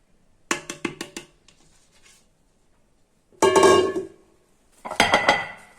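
Homemade ice cream mixture being beaten in a bowl, heard as quick rhythmic clinks of a utensil against the bowl in short bursts separated by silent pauses.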